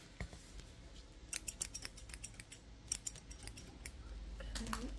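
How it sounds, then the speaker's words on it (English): Scissors trimming hair snip close and soft in quick irregular clusters of crisp cuts, quiet and intimate with no talking over them. "I'm going to trim the hair here."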